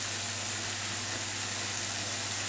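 Tomato paste for chicken jalfrezi sizzling in a pan, a steady close-up frying hiss that stays even from start to end with no talk.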